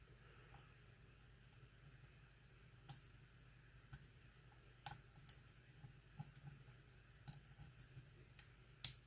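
Lock pick working the pins of a Mul-T-Lock C10 padlock, faint sparse clicks and ticks scattered irregularly over a quiet background hum, close and delicate.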